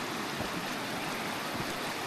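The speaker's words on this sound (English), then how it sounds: "We're back by the Timaru river" The Timaru River in New Zealand rushing steadily past, a broad constant wash of flowing water heard near and alone.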